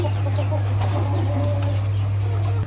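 Homing pigeons released outdoors for the first time flutter and flap their wings in brief bursts, heard over a loud, constant low electrical hum.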